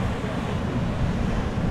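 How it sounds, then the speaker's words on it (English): Small ocean waves wash onto a beach at Sayulita, Mexico, as a continuous roar of surf mixed with heavy wind buffeting on the microphone. "A few baby waves."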